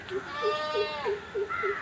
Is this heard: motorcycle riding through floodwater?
no